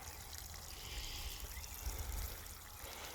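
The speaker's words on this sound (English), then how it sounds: "So basically I hit the plants first with some water" Water from a bucket trickles and splashes onto plants at a farm, a steady close pouring sound with no talking.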